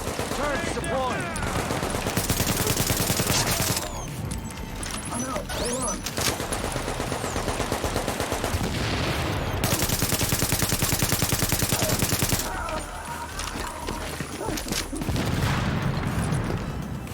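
An automated turret fires in a video game, a dense, continuous rattle of rapid shots that keeps going for many seconds, with brief breaks and shifts in intensity and a voice speaking over the din.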